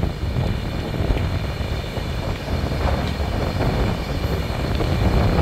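The Humsafar Express (12276) rumbles as it slowly picks up speed out of Delhi, a dense, steady wheel and rail roar heard from inside the coach with wind noise, no talking.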